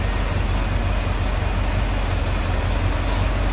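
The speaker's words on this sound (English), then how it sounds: "You'll hear the fans fluctuating." A crate motor installed in a car idles at operating temperature with its cooling fans running. The close, loud, steady engine drone continues unbroken throughout, with no talk.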